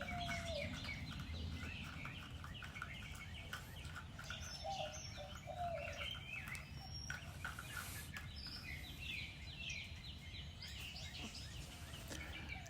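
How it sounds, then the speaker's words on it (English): Soft, repetitive white-winged dove cooing drifts through a constant outdoor hum, with faint chirps from sparrows scattered throughout. "The main bird you hear is the white-winged dove, and they just love cooing back and forth"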